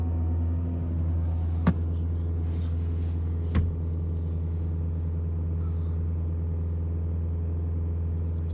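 A car engine idles with a steady low hum and rumble as the RPM is raised, a diesel with a particulate filter regeneration fault (P2458), with two brief sharp clicks partway through.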